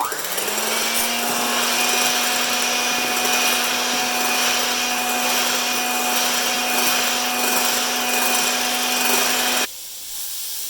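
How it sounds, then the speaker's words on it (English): Steady, loud mechanical whir of an electric mixer whisking pancake batter toward stiff peaks, a continuous motor tone running unbroken for nearly ten seconds before cutting off abruptly near the end. "Let's keep on whisking."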